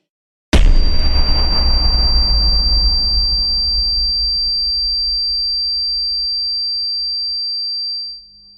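A single loud explosive boom that cuts in suddenly, then a long decaying rumble under a steady high-pitched ringing tone that lingers after the blast.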